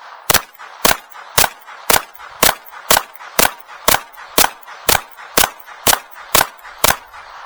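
An FN 502 pistol fires about fifteen evenly spaced, sharp shots at a target, each crack loud and close with a short ringing decay, heard alone without talk.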